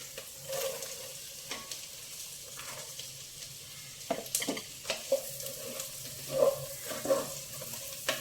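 Finely chopped carrot frying in a pan for a mushroom mixed vegetable curry, with ginger and garlic already fried, giving a steady soft sizzle broken by periodic stirring scrapes and clinks, close and alone with no talk.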